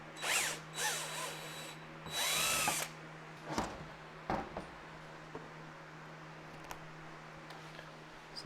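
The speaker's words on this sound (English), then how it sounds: "that's where you're going to drill out with your 1/2-inch drill bits" A power drill fitted with a 1/2-inch bit bores holes into a Jeep tailgate, running in several short whirring bursts separated by pauses and small handling clicks, close and fairly loud.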